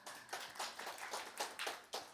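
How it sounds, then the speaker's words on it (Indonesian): An audience at a religious teen gathering claps, a soft patter of many hands that stays quiet and sounds somewhat distant throughout, with no talk. "Kasih tepuk tangan dong saudara."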